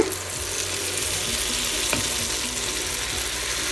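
Unniyappam batter poured into the wells of a hot unniyappam pan for a traditional Kerala sweet, giving a steady, loud, hissing sizzle that runs without a break, with a brief sharper crackle near the middle.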